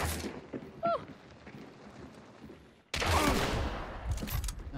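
Gunfire in a multiplayer shooter game pops in scattered distant shots, then swells into a dense, sustained fusillade of rapid overlapping bursts in the second half.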